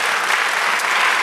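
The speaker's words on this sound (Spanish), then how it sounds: "Dale un aplauso al Señor." A church congregation applauds together in a steady, dense wash of clapping that fills the space, loud and continuous with no voices over it.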